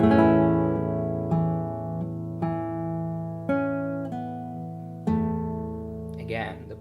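Fingerstyle acoustic guitar phrase, a melody with light pull-offs to the open string and paired notes on the 6th and 3rd strings, plucked in several ringing attacks, close and clear, played alone.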